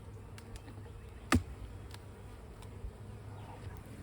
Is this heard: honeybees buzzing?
yes